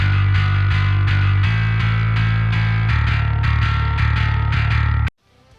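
A heavily distorted bass guitar, played through Submission Audio's PunkBass with distortion focused around 1.5–2.5 kHz, plays a steady, driving riff of sustained notes, loud and upfront, then cuts off abruptly near the end.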